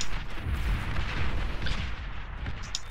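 Artillery units fire in the strategy game Beyond All Reason during an 8v8 match, a dense rumbling barrage of booms and bursts running continuously and loud throughout.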